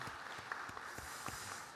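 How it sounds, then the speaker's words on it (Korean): A church congregation claps in congratulation during a Sunday morning service, a soft, steady patter of many hands heard from a distance. "박수로 축하드립니다"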